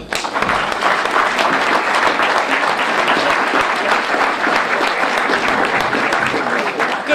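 An audience claps steadily and loudly at a community Martin Luther King Jr. breakfast, a dense, sustained round of applause that fills the room for several seconds without any speech over it.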